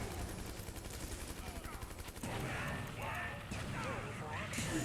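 Machine gun fire from units in the C&C Rivals strategy game, a dense rattling burst of rapid shots mixed with explosions and game effects, with voices speaking over the action.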